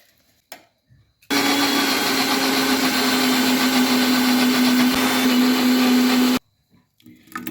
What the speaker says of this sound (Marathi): आता तसंच दुसरं पण घेते मी बारीक करायला बघा मिक्सरच्या भांड्यात